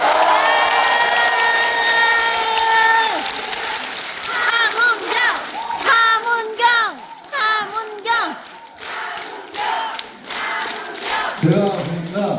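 An audience at a conservative reform debate forum cheers and applauds a committee chair, with loud whoops and shouts in bursts over steady clapping, mixed with speech and a brief sharper voice at the end.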